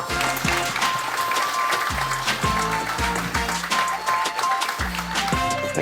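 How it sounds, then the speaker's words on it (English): Guests at a July 4th volunteer and fire-rescue recognition party applaud lifeguards, steady clapping throughout mixed with repeated low booming tones in the background. "So, a round of applause for the lifeguards."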